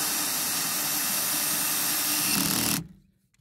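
A power drill spins a universal socket on a car bolt under the bonnet, a steady, close, loud whirring drone that runs for nearly three seconds and then cuts off abruptly.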